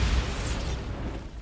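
A Bombarda spell explosion in Hogwarts Legacy gameplay, a loud bright blast with a crackling, debris-like burst at the start, then a rumbling, settling decay.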